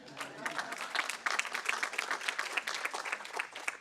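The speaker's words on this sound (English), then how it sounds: "I think that deserves a clap or something." Audience clapping at a livestreamed civil-society conference session, a steady patter of many hands lasting several seconds, fairly faint and distant with no talk over it.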